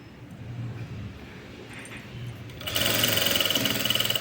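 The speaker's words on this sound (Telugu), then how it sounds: "ఇలా స్టిచ్ చేసుకుంటూ వచ్చేసేయండి ఇలా మొత్తం కూడా నీట్గా కుట్టుకుంటూ వచ్చేయటము" A sewing machine stitching piping runs at a quiet idle, then speeds into a loud, fast, steady mechanical whir and clatter for the last couple of seconds.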